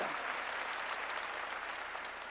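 Congregation clapping together during a Korean church sermon, a steady dense patter of many hands filling the room for a couple of seconds, with no talking over it.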